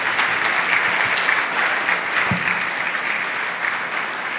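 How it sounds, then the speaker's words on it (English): Steady, full audience applause from a sizable crowd, loud and even from start to finish with no voices standing out. "give him another round of applause"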